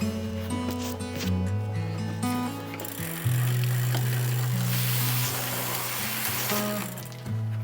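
A Raleigh bicycle's gears being shifted during a tune-up and overhaul in a workshop, with steady mechanical whirring of the drivetrain and shifting clicks, loud and close, with no talking.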